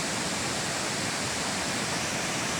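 Huai Man Khao, a natural forest creek in Thailand that feeds into the Mekong, flows in a loud, continuous broadband rush of water that stays even and unbroken throughout.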